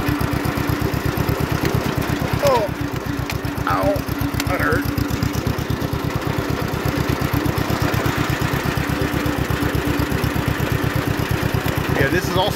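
A small John Deere L tractor engine idles steadily and up close, a fast regular low thumping that runs throughout, with a few brief squeaks and faint voices in the background.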